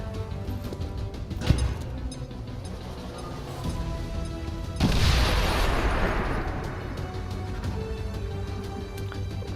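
A detonation in XCOM 2: War of the Chosen bursts out mid-way as a broad, rushing boom that decays slowly over several seconds, following an earlier sharp thump amid ongoing game ambience.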